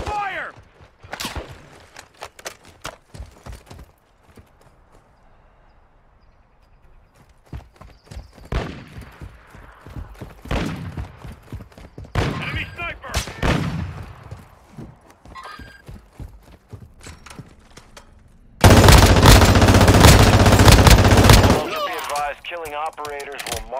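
Gunfire in Call of Duty: Warzone 2.0 DMZ: sparse sharp single shots and short bursts echo over quiet stretches, then a loud sustained automatic volley near the end.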